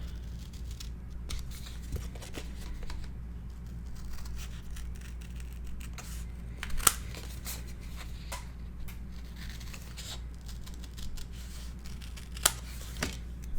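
Scissors trimming paper corners for a Graphic45 mini album, heard as scattered soft snips and crisp clicks over a low steady background hum, close and quiet.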